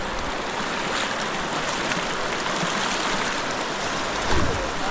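Rushing creek rapids at Clifty Falls in Indiana, with the water running high, make a loud, steady broadband roar close by, with a brief splash or thump near the end.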